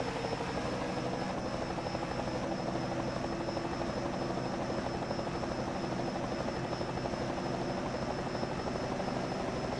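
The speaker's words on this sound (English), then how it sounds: "Hear the helicopter." A helicopter passes overhead at a Rockingham race session, its steady rotor drone filling the whole stretch at an even level with no talk.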